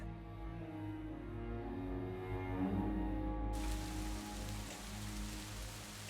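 Steady rain patters on the glass roof of an artist's studio, a dense hiss over a low droning hum, continuous and moderately close.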